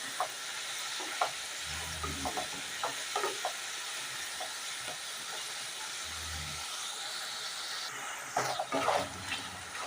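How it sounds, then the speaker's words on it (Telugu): Potato pieces fry in oil with a soft constant sizzle and hiss, with a few scraping stirs and light clatters of a spoon in the pan, close by and quiet. "బంగాళదుంప ముక్కలన్నీ వేసేసి ఫ్రై చేసుకోండి"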